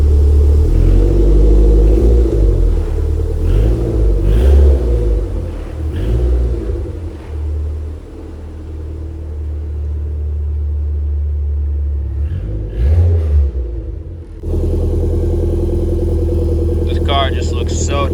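Toyota MR2 engine revving and rumbling as the car pulls away, a low mid-pitched drone rising and falling with acceleration, close by, with voices talking over it.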